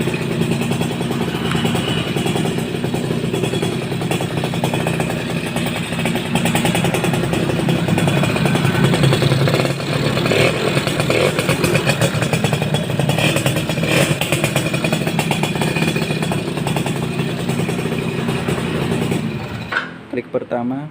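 A Suzuki RC100 motorcycle engine runs steadily close by, a continuous buzzing putter with clattery mechanical texture, before cutting out abruptly near the end; a voice talks over it.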